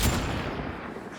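Gunfire from a weapon in the video game Mass Effect Andromeda: one loud, booming shot with a long rumbling tail, heard alone with no talking.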